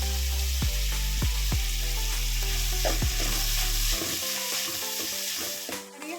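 Dill leaves fry in hot oil for vegetable uppittu, a loud steady sizzle broken by sharp rhythmic stirring knocks against the pan, easing toward the end with no talking.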